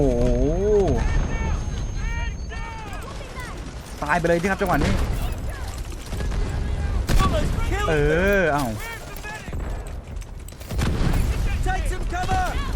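Gunfire and grenade explosions in the shooter video game Delta Force: bursts of shots and heavy booms scattered among excited talking by players.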